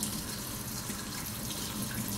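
Water streams steadily from a tap during a strong acid demonstration, a continuous, even rush of flow that stays constant and fairly close throughout, with no voices.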